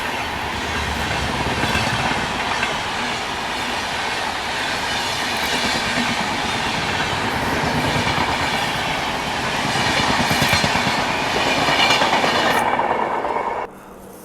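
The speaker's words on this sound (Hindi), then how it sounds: "बाकी ये है डिब्रूगढ़ राजधानी।" The Dibrugarh Rajdhani express rushes past close by, a loud steady roar of rolling wagons with rhythmic clickety-clack from the wheels that holds for many seconds before cutting off abruptly.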